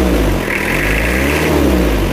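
Toyota Kijang diesel engine revving smoothly after a repair, a steady, loud drone with rising mid-range tone and no ticking, running alone for about two seconds.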